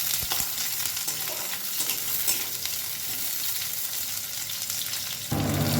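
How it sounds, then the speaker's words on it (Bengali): Chopped ginger and garlic cloves stir-fried with onion in hot oil, a dense continuous sizzle with occasional spoon scrapes, close by, swelling louder near the end. "দিয়ে দিচ্ছি আদা কুচি, দেব রসুনের কোয়া, একটু নাড়াচাড়া করে নেব"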